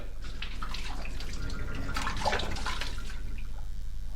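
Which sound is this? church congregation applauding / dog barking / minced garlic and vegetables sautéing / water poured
water poured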